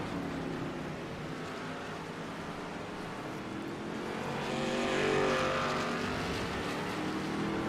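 Race cars run the Daytona road course in the iRacing sim, their engines a continuous drone that swells louder midway as cars pass through the NASCAR chicane.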